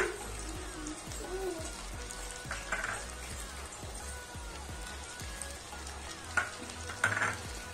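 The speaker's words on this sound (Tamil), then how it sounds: "இத லோ பிளேம்ல ஒரு 2 to 3 நிமிஷம் வரைக்கும் வதக்கி விடலாம்." Carrot and capsicum sauté with softened tomato in a pan over a low flame, giving a continuous gentle sizzle broken by repeated scraping stirs and a few louder clatters near the end.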